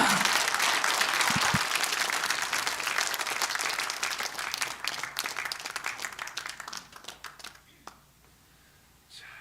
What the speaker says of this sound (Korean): 정강훈 목사님을 큰 박수로 모시겠습니다